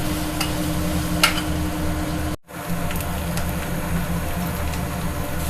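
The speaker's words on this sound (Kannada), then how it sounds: "ಕ್ಲೀನಾಗಿ ಹುರ್ಕೊಳ್ಳಿ ಲೋಳ ಎಲ್ಲ ಹೋಗಬೇಕು ಅಲ್ಲಿವರೆಗೂ ಕ್ಲೀನಾಗಿ ಹುರ್ಕೊಳ್ಳಿ" Okra (lady's finger) frying in a pan, a steady loud sizzle and crackle with occasional stirring scrapes, broken once by a brief moment of silence.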